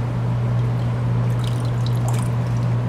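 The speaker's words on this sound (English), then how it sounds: "pouring her labor tea" Raspberry leaf labor tea is poured in a steady, continuous trickle over a constant low hum, with faint splashy drips rising near the end and no talking.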